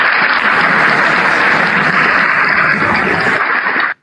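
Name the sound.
applause at Sunday school gathering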